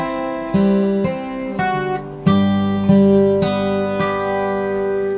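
Guitar chords fingerpicked one after another in a steady, unhurried rhythm, each ringing clearly and close, with no voices.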